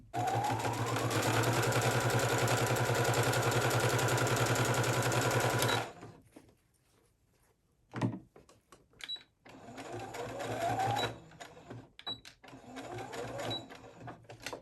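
A sewing machine runs in a steady loud burst while stitching fabric for a blouse, then stops; afterward come quieter short starts, clicks and a brief renewed run as the fabric is turned.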